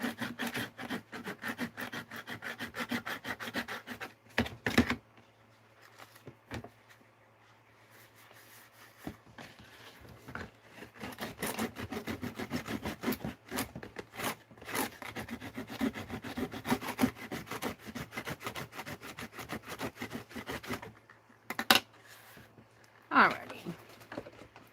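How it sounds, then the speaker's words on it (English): Sandpaper scrubs a wooden drumstick box in a workshop, with repeated close rasping strokes in uneven bursts broken by short pauses, and a low steady hum underneath. "It really needs to be sanded."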